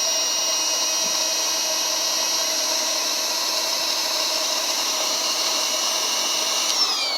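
An electric air pump inflating a truck bed air mattress gives a steady, even motor drone with a high whine that holds throughout and cuts off briefly near the end.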